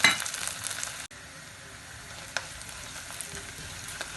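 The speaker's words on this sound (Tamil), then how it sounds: "வெங்காயம் வதங்கட்டும்." Onions and curry leaves fry in a pan with a continuous bright sizzle, a few clicks of stirring scattered through, heard close and without talk.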